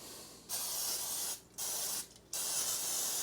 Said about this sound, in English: put a little shot of spray on it